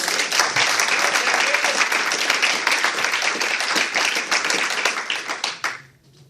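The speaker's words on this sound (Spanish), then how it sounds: "Denle un aplauso a Jesús" A church congregation applauds during a Spanish-language sermon, dense crowd clapping with sharp individual claps sustained for several seconds, then quickly fading to quiet.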